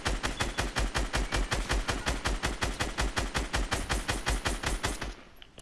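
Rapid automatic gunfire from a Fortnite duo match rattles out in a steady, evenly spaced stream of loud close shots for over five seconds, then cuts off abruptly into near silence.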